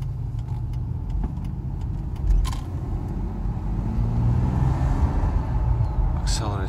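Mercedes SL600 accelerating on the road, a steady low engine and road rumble that builds slightly with a faint whine, heard from inside the car.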